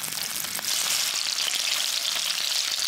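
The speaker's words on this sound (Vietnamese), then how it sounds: "Cho vào chảo một ít dầu rồi mình chiên ở lửa nhỏ vừa." Pork belly pan-frying in a little oil over medium-low heat, giving a steady, dense sizzle with faint crackles, close and even throughout with no talking.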